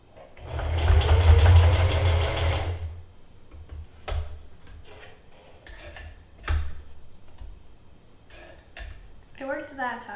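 A sewing machine runs a test seam in one loud, close, continuous whir lasting about two seconds, then stops, followed by scattered handling clicks and a voice speaking near the end.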